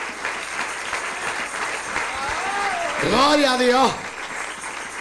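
A congregation at an evangelical church service applauds, a steady wash of clapping that swells toward the end while a voice calls out loudly over it.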